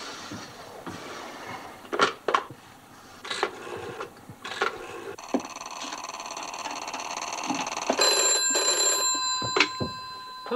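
An old-style telephone bell rings at a police station in a rural setting, steady trilling bursts that grow louder and fill the later seconds, preceded by a few sharp knocks and clatters.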